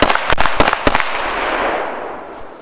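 Gunshots fired at a gun range: three or four sharp, loud reports in quick succession in the first second, followed by a fading reverberant tail and no talking.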